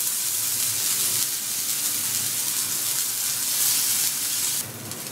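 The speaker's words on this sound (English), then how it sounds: "So now in a tawa, add little oil. And now place these cutlet into this." Channa dal vegetable cutlets frying in a little oil on a tawa, giving a loud, steady, bright sizzle and hiss that stays constant, then eases slightly near the end.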